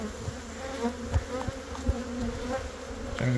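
Honeybees hum steadily around an open hive during a split-making inspection of brood frames, a dense close buzz with a few louder passes of single bees near the microphone and no talk.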